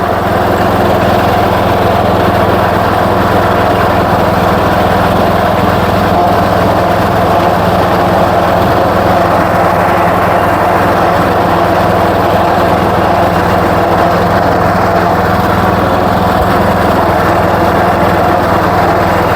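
The engine of a John Deere 210 garden tractor drones steadily and loudly throughout while being ridden across a bumpy yard, a continuous close mechanical hum with no voices.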